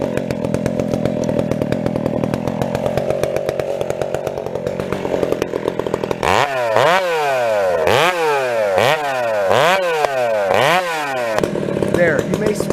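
Husqvarna 372XP chainsaw running close by while cutting trees, a steady high idle buzz that then rises into a series of repeated full-throttle revs, with people talking over it.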